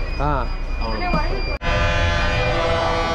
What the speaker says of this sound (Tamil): எல்லா பஸ்ஸும் ஹார்ன் அடிக்கிறது.